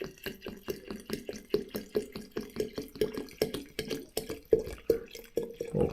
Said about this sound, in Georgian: ეხლა მე ამას შევავსებ წყლით.